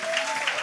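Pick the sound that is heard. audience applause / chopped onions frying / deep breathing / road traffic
audience applause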